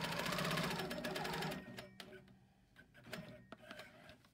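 A Handi Quilter longarm quilting machine runs along a ruler template, its loud rapid mechanical stitching filling the first second and a half before dropping to scattered softer clicks and taps.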